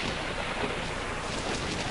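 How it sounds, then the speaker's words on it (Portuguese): A film sound effect of a night thunderstorm, a dense, constant roar of heavy rain with deep thunder rumbling underneath, loud and unbroken throughout, with no voices. "uma terrível tempestade elétrica ocorreu naquela noite"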